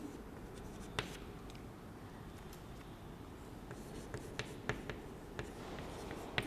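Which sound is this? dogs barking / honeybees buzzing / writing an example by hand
writing an example by hand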